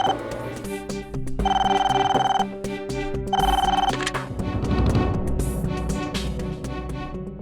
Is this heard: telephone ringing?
yes